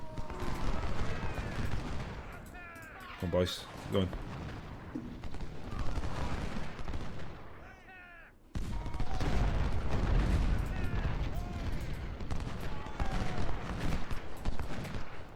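Musket volleys in the Civil War strategy game Ultimate General: Civil War, set at Second Bull Run: dense, continuous crackling gunfire fills the whole stretch, with a brief lull before a loud renewed burst, while a voice calls out briefly.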